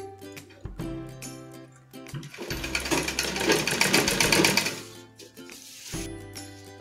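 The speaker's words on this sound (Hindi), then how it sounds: "एक सिलाई यहाँ पे लगाइए ताकि जो है चेन अच्छे से बैठ जाए।" A sewing machine runs in bursts as it stitches a zipper onto a handbag made from old cloth, starting briefly, then a longer steady run, then a short burst at the end, close and clear with no talk.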